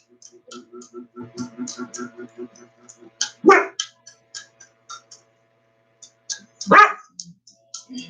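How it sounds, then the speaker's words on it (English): A pet dog lets out two loud, abrupt barks a few seconds apart, close by, between a steady light ticking and clicking in a quiet room. "he just be barking at whatever"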